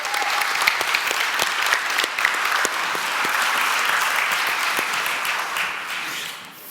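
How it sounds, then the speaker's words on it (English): Steady audience applause at a live chess challenge event with Magnus Carlsen, many hands clapping in a dense, even patter that holds for several seconds before tapering off, with no talk over it. "round of applause for Lucas as well"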